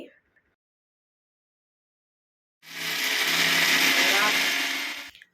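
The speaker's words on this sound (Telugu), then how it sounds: "దీనిలో మనం ముందుగా తీసుకున్న పేలాలను కూడా వేసి మిక్సీ పట్టాలి" A mixer grinder whirs loudly and steadily, grinding puffed jowar with jaggery; it starts abruptly after a few seconds of near silence and runs at constant speed until cut off.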